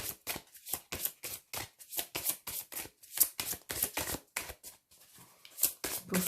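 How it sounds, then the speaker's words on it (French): Playing cards riffle and patter down in quick bursts during a tarot-style shuffle, close and soft, a steady run of brisk papery flutters with short pauses between them. "Les cartes qui tombent."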